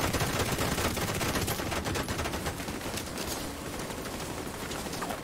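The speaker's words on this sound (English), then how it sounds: "That is a minigun." Rapid, dense minigun fire in a shooting video game, a loud continuous rattle of rounds that holds steady for about five seconds with no talking over it.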